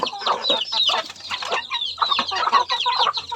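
A red junglefowl hen clucks close by, rapid busy chatter of short calls and higher chirps running continuously with no talk over it.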